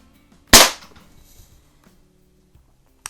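A Crosman SA6 CO2-powered .22 caliber air pistol fires a single sharp, loud shot near the mic, with a short decaying tail, then quiet with a faint click at the end.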